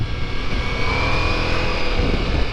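A steady Ducati Multistrada V4 Rally motorcycle's V4 engine drones at cruising speed, a constant low rumble with broadband road and wind roar, no talking.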